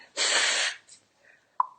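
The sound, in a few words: sneeze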